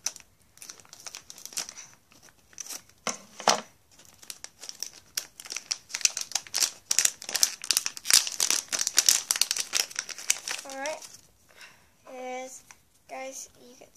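Paper crinkles and tears as a toy surprise is unwrapped by hand, a busy run of rustling and crumpling close to the microphone, with bursts of talk in between.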